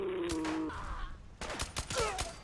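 Gunfire from a modded SIG Sauer MPX in Fallout 4, a quick burst of several sharp shots in a row after a brief tonal game sound, crisp and close.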